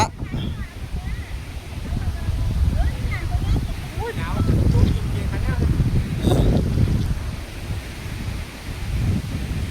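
Wind gusts across the mountain viewpoint at Phu Ruea above a sea of fog, making steady rumbling buffeting against the microphone while people talk throughout.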